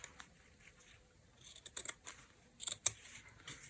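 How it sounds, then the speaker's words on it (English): Scissors cut paper pockets for a junk journal, a few faint crisp snips clustered near the end after quiet rustling. "Just cut one and then use it to cut the rest."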